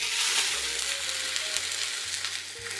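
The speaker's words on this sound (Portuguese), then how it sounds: "E vou dourar ela de todos os lados. Isso se chama selar a carne." Beef rib meat sears in hot neutral oil in a pan on the stove, a steady close sizzle and crackle throughout with faint low hum underneath, no talking.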